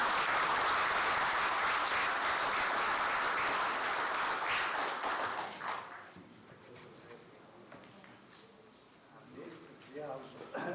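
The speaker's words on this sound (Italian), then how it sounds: "Applauso" Audience applause at a members' poetry contest in Isili, a dense, loud wash of clapping that fills the first five seconds and then fades into quieter, scattered claps with faint voices.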